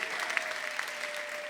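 A church congregation at a French-language teaching service applauds, with steady, fairly soft clapping from many hands under a faint tone.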